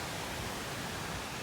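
Steady, even rush of falling water from an unnamed creek cascading straight out of a hillside, a constant broadband roar with no voices over it.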